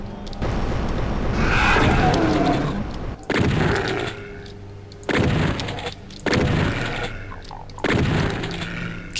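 Gunfire in the first-person shooter Doom 64: Retribution, a series of about four loud, sharp booming shots spaced roughly every one and a half seconds, each decaying quickly.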